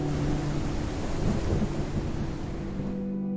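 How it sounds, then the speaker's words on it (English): Game thunderstorm from the survival open-world title Outbreak Island: steady loud rain and rumbling thunder wash under gusty wind, fading slightly at the end. "It can go from a calm, clear day to a wild storm."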